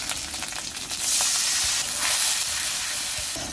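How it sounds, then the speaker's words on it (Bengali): A spice paste of onion, ginger, garlic, turmeric, chili and coriander fries in a pan over a clay stove, a steady close sizzle and hiss with occasional stirring scrapes. "এই যে মশলাটা কষায় নেব"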